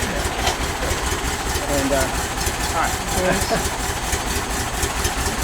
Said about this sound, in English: listen to how low it's actually idling.